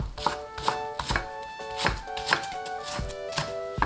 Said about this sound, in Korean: 썰고요.